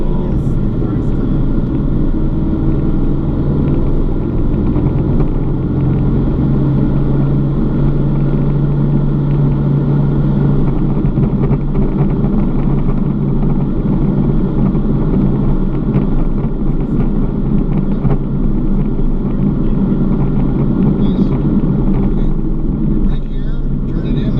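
A car accelerates out of a corner on the long track at a race circuit, a steady loud engine rumble running throughout, with tire and wind noise layered over it and no break in the sound.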